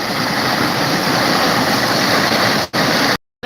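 A waterfall fed by a forest stream roars in a steady, loud broadband rush that cuts out briefly near the end.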